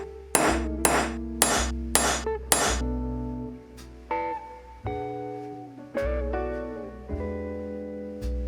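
Sharp metallic hammer strikes on a transfer punch ring out, five quick blows followed by slower, spaced taps, each leaving a bright ringing tone, while building a CNC router.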